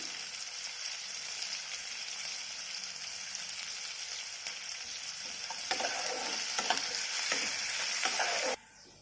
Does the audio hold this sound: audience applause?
no